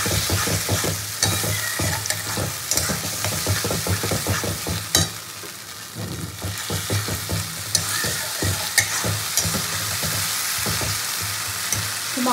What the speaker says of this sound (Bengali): তো এই মশলাটা ভালো করে কষিয়ে নেব।